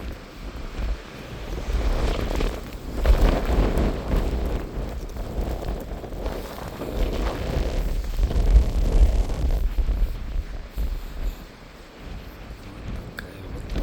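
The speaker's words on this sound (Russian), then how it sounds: "ветер очень сильный" Very strong wind gusting through a snowstorm, a loud sustained roar that swells and buffets the microphone in waves, with low rumbling surges throughout.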